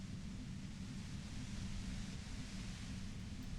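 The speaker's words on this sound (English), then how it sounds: "You hear through the white noise." A steady, low, rumbling wash of white noise in the Disco Elysium game, soft and unbroken for a few seconds with nothing else over it.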